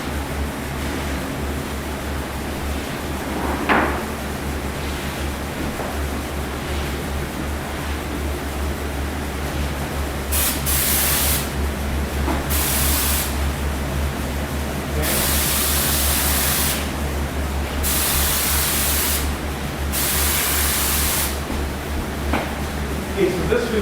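A cup-gun sprays toner onto wooden door faces in a finishing shop, with several bursts of loud, steady airy hiss separated by short pauses over a constant room hum.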